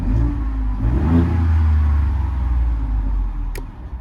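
A Ford Bronco's 2.7 liter engine with its exhaust valve open gives a short deep rev that swells and settles into a low steady rumble, close and loud, with no talking.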